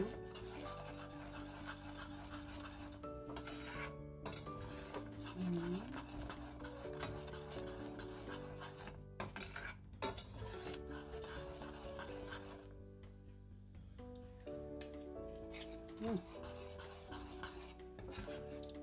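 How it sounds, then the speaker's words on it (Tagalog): Cassava is stirred with coconut milk in a pot, giving a steady rubbing, scraping sound that continues for the whole stretch under constant background music. "Mix lang natin siya."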